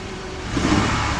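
A 2001 Ford Explorer with a 4.0 engine runs with a misfire, a brief, loud, close mid-pitched engine rumble that swells slightly partway through.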